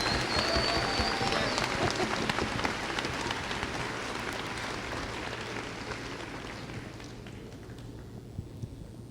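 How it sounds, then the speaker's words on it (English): Graduation ceremony crowd applauding a graduate, a dense steady patter of many hands clapping throughout, gradually tapering toward the end. "I'd like the grads now to join me in applauding Duncan for his efforts for school service."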